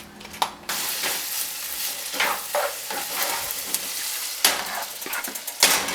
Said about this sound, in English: Then you can add some olive oil and saute everything until it's soft